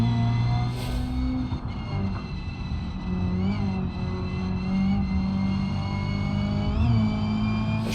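A car engine revs and accelerates hard in a BeamNG.drive time trial on an East Coast USA map, a steady loud drone with rising pitch sweeps as it pulls through gears toward the finish, no talk over it.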